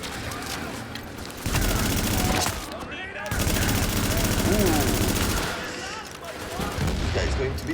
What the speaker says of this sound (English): he is using a LMG there